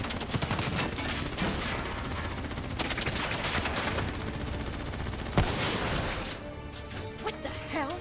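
Sustained heavy gunfire in the Call of Duty: Black Ops III campaign, dense overlapping automatic bursts and impacts filling the scene loudly, with a sharp crash midway and short shouted voices near the end.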